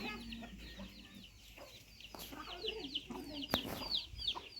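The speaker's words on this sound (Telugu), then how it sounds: "కోళ్ళు చూడండి సూపర్ ఉంటాయి కోళ్ళు ఇక్కడ" Soft clucking from hens mixed with high chick peeps, fairly quiet and slightly distant, in an outdoor farmyard setting.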